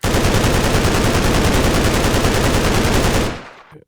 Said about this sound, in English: This is automatic and uses the advanced rounds and is considered an LMG.